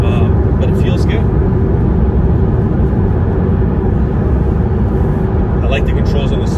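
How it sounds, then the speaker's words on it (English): Porsche 911 Carrera (991) cruising on a freeway at 70 mph, with a steady, loud broadband road and engine roar filling the cabin throughout and brief higher hiss near the end. "right now we're driving on the freeway. You're going 70 miles an hour."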